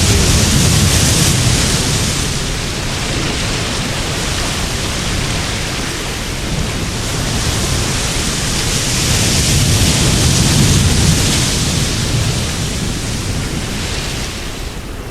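Heavy rain and wind from Super Typhoon Kong-Rey pour down in a steady, dense roar that swells and eases slightly over time, with no voices.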